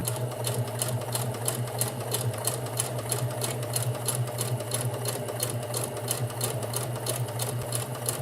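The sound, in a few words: sewing machine sewing straight lines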